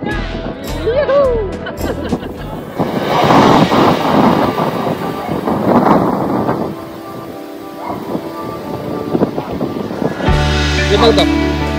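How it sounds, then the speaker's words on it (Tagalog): Strong wind gusts buffeting the microphone on a mountain hike, rushing and roaring in loud surges, with brief voices and a short lull before another gust. "Lakas talaga ng hangin."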